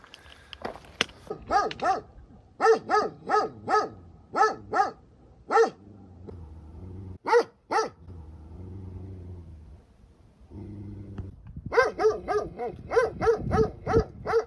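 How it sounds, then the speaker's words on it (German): A large, aggressive dog tied up near Demre on Turkey's Lycian Way barks loudly and close in repeated bursts, with pauses, a few whines and low background rumble between volleys. "Bei Tageslicht war der Höllenhund von Demre nur noch ein angebundener, großer, aggressiver, wahrscheinlich ängstlicher Hund"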